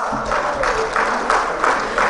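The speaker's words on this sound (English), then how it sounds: "Can we have a huge round of applause?" A gala night audience gives a brief, fairly steady burst of applause welcoming a co-anchor onto the stage, moderately loud and diffuse.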